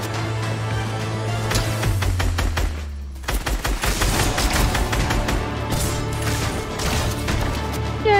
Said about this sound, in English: He's trying to shoot out the wall and break us down.